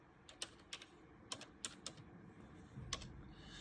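A computer keyboard clicks in a quick string of crisp keystrokes, close and fairly quiet, then a pause and one final tap, with no speech.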